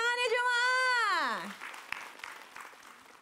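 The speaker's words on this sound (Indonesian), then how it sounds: "Boleh tepuk tangannya jemaah." A studio audience at an Islamic religious TV program applauds softly, the clapping rising just as a voice finishes speaking and continuing faintly for a couple of seconds.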